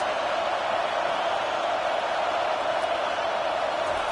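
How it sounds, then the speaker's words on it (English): Stadium crowd in the NCAA 25 college football video game roars steadily throughout, a dense continuous cheer with no clear breaks and no talk over it. "Listen to this crowd just shaking the girders of this place trying to help their defense."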